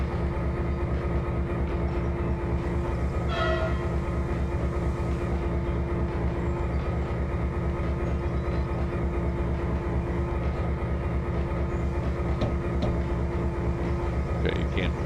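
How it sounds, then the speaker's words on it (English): A runaway train rumbles continuously in the Trainz 2022 simulator, a steady, even rolling drone with a few brief tonal squeals, sustained throughout at moderate loudness. "I got a runaway train here, guys."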